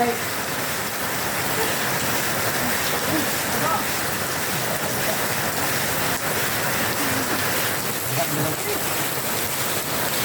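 Steady, heavy rain pouring down, a dense continuous hiss of drops on surfaces, with faint murmuring voices buried underneath.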